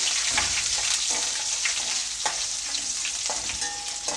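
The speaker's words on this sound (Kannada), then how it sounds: "ಇದೆಲ್ಲದನ್ನು ಹಾಕಿಬಿಟ್ಟು ಚೆನ್ನಾಗಿ ಫ್ರೈ ಮಾಡ್ಕೊಳ್ತೀನಿ" Curry leaves with fresh and dried red chillies fry in hot oil in a pan, a steady crackling sizzle broken by repeated scraping knocks of a spoon stirring, close and fairly loud with no voices.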